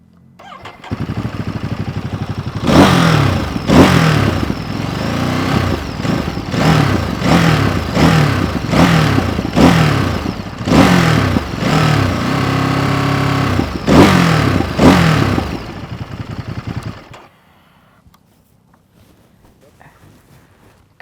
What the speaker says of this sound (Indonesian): Sekarang kita dengerin dulu gimana suara dari Monster ini